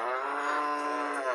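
A dairy cow at a cattle market gives one long, steady, close-up moo lasting over a second, with no other sounds.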